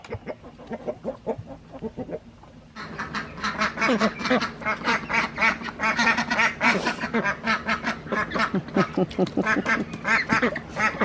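Chickens in a backyard coop at night, with quails nearby, give off a dense chorus of clucks and quacking calls. It starts sparse and then swells into steady, close chatter with no talk.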